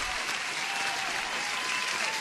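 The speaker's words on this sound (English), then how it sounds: "Huge clap for Simply Vivacious" Applause for a trader who passed a funded futures trading combine, a dense continuous wash of many hands clapping, fairly distant and even in level throughout.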